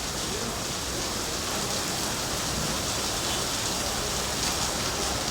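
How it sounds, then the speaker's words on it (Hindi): First winter rain falling in Islamabad, Pakistan: steady, dense outdoor rainfall hissing on surfaces throughout, continuous and moderately loud with no distinct voices. "सर्दियों की पहली बारिश एंजॉय करते हुए।"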